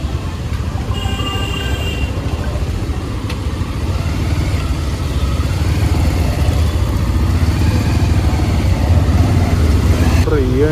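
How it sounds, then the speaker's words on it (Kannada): Road traffic idling around a Bajaj Pulsar motorcycle in town, a steady, close low engine rumble and hum that continues throughout with occasional faint horn-like tones. "ಇವಾಗ ಇಲ್ಲಿ ಟ್ರಾಫಿಕ್ ಶುರು ಅನ್ಸುತ್ತೆ ಯಾಕೋ"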